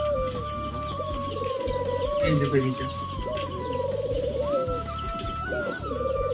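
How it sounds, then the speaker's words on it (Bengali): Large pigeons and their young coo steadily in a bird enclosure, a close, repeated low throbbing with a few higher chirps, while someone talks over it. "এদিকে পায়রা আছে, বড় বড় পায়রা"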